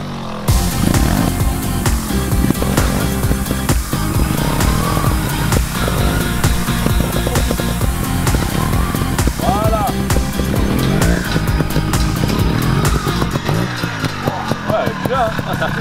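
Trial motorcycle engine blipping and revving in short throttle bursts through a wheelie practice session, loud and close, with people talking throughout.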